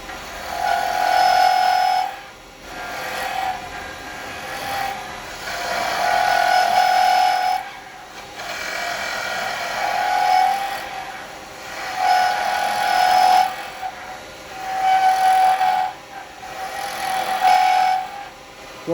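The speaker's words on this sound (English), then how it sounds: "it's so much quicker with a roughing gouge" A roughing gouge cuts wood spinning on a lathe while a toothpick holder is turned. Loud, rhythmic passes repeat every couple of seconds, each a rough, scraping roar with a ringing whine, with brief dips between strokes.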